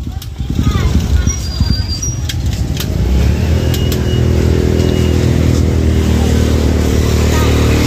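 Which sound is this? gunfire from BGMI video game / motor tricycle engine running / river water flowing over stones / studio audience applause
motor tricycle engine running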